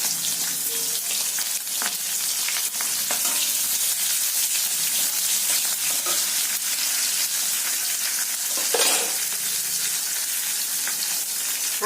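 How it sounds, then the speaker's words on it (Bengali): Sliced onions stir-frying in a pan for soya chilli, a steady bright sizzle throughout with occasional stirring scrapes and crackles, fairly close and with no talking. "এবার এই পেঁয়াজগুলো এতে দিয়ে দেবো,"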